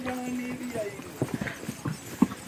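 Horse hooves clip-clop on the mountain pilgrimage path to Vaishno Devi, a quick uneven run of hoof strikes close by, with faint voices and trail noise around them.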